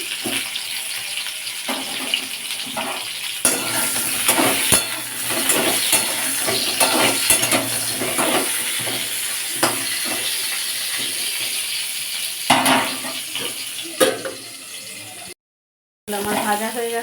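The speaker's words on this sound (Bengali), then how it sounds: "এবার পটলগুলো ভেজে নেব" Oil hisses and crackles steadily as pointed gourd pieces fry, with occasional louder spatters and a brief dropout near the end.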